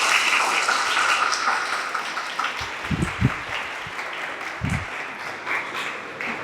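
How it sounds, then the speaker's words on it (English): A lecture audience applauds a student during a medical class, a steady wash of many hands clapping together at moderate loudness, with a few louder claps near the middle. "Please clap for her."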